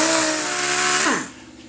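A grinder grinds rust spots off metal. The motor whines steadily and loudly at close range, then cuts off and winds down quickly in pitch, leaving a quieter tail.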